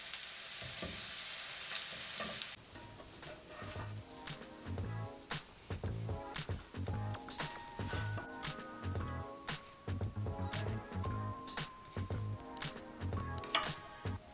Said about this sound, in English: Continue cooking the other rings, adding 3 tablespoons of vegetable oil.